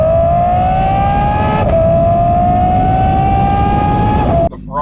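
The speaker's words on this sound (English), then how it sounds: "The Ferrari sound is insane" Ferrari F12 V12 engine revving hard, a loud rising high-pitched wail climbing steadily through the gears with a brief shift dip, then dropping off near the end.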